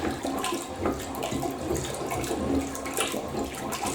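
Water sloshing and churning in a clogged toilet as a plunger pushes it down, a steady rough wash of splashing with rhythmic surges, close and moderately loud with no talking.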